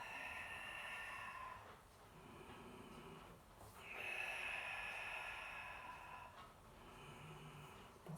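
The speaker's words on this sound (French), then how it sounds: "Inspire ici, expire." Slow, steady breaths in and out during a Pilates exercise, heard as soft airy whooshes over a continuous background hiss, each breath swelling and fading over a few seconds, with no talk.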